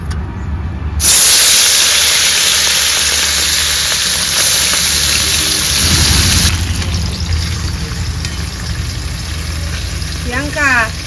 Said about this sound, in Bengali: এই যে বন্ধুরা পুটি মাছ এই মাছগুলো তেলে ছেড়ে দেব